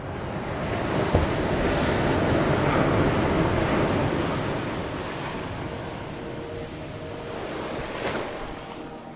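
Rough ocean surf crashes continuously under strong, gusting wind, a loud, dense roar with wind buffeting the microphone throughout and no voices.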